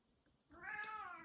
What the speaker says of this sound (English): Meow. Oh, meow.